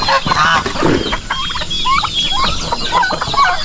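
Turkeys and chickens cluck and gobble together in a close, loud, continuous chorus of overlapping calls while feeding on grass on a small farm.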